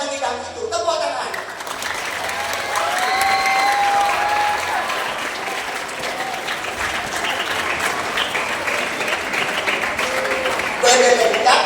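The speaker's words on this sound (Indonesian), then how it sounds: "Tepuk tangan." An audience at a Maulid Nabi school celebration breaks into loud, sustained applause. Crowd noise and a voice carry over the clapping, and the applause swells again at the end.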